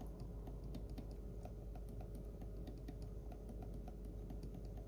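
Left and right buttons on a ProtoArc EM01 trackball are clicked repeatedly, giving quiet, soft, rapid clicks over faint background hiss with no talking.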